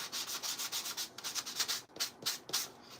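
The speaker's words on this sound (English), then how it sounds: "I'm going to go ahead and get my sander. And we're going to sand a little bit on the edges on here." A handheld sander works the edges of a framed crushed glass and pearls Christmas tree craft, giving rapid rhythmic scratchy rubbing strokes close by, loud and continuous throughout with no talking.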